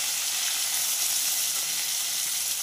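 Lote (Bombay duck) fish frying in a pan gives off a steady, even sizzle of hot oil throughout, close and continuous with no talk.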